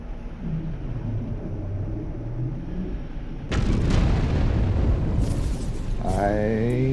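Explosions from shooting in the video game No Man's Sky: a sudden loud, booming burst breaks in partway through and keeps rumbling densely, with tonal game sounds rising near the end.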